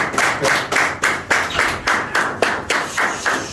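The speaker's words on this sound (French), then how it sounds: "vous êtes en train d'applaudir la meilleure croyance à installer" An audience applauding at a talk, heard as a regular series of sharp claps, roughly two per second, fairly loud and close, with no voices over them.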